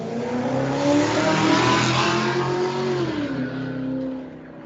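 A car drives close by with its engine revving loudly, pitch rising and falling as it accelerates, heard outdoors with no talking.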